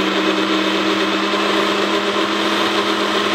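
A blender whirs steadily at high speed while blending pancake batter, loud and continuous, with a constant motor drone throughout before cutting off abruptly at the end.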